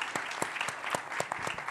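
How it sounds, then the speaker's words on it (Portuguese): An audience gives a round of applause for a panelist named Wilson at a pharmacoeconomics and outcomes research session, short and fairly sparse, with distinct individual claps standing out in an uneven rhythm. "Uma salva de palmas para o Wilson, por favor."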